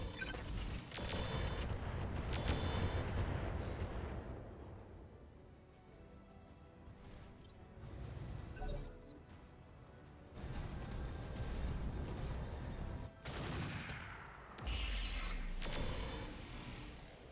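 Heavy artillery fire in the mech combat game Roguetech, a BattleTech mod, with repeated booming blasts and rumbling impacts rolling on loudly and continuously with brief lulls.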